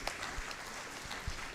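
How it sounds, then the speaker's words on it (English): An audience at a university convocation ceremony claps for an honoree, a soft, distant patter of applause holding steady with a few louder individual claps standing out. "I think he deserves a round of applause"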